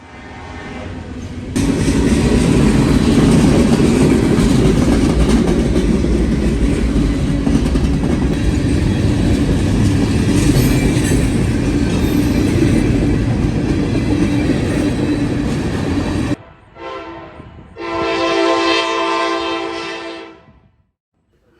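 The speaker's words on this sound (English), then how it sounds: "A short westbound 171 heads west through London." A short westbound Norfolk Southern freight rolls through London with a loud, steady rumble and clatter that cuts off abruptly, followed by a couple of brief horn blasts near the end.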